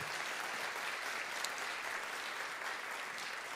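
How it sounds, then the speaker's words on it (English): Audience applause at a fall college convocation, a steady, even wash of many hands clapping at moderate distance, sustained without a break and no voices on top. "Let's give them a round of applause."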